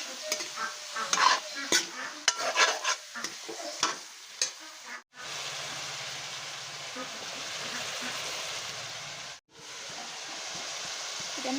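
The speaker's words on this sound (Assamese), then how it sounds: "এতিয়া মই দিম সোৱাদ অনুসৰি নিমখ, হালধি, কিনে ভালদৰে মিক্স কৰি দিম।" Duck meat fried in a pan with salt and turmeric is stirred with a scraping utensil in quick irregular strokes, then settles into a steady close sizzle.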